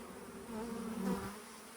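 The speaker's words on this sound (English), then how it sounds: "This is a real small swarm" A small honeybee swarm drones with a close, continuous low buzz that swells briefly midway, being shaken into a new hive, no voices.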